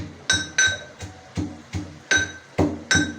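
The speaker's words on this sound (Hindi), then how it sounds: "हरी मिर्ची मैं कूट लेती हूँ" Green chillies being pounded with a pestle in a home kitchen: about eight close, rhythmic knocks with bright, ringing clinks at a steady pace.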